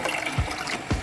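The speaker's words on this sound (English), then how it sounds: "now we're ready to pour some chicken broth and beef broth into this mixture" Chicken broth and beef broth are poured from containers into a pot of mixture. Liquid trickles and splashes steadily through the short moment, with two brief low glugs, and no one speaks.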